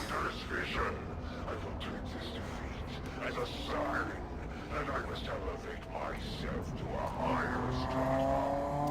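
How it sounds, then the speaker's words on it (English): A loud motorbike roars past in an XCOM 2 game stream, its engine note rising and falling over several seconds beneath steady talk. "That was an annoyingly loud motorbike."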